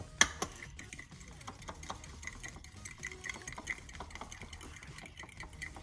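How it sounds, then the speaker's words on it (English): Milk batter for crispy chicken being whisked in a bowl, a quick run of light, uneven clicking taps at a steady pace, close and fairly quiet with no talking. "Gotta whisk it really good."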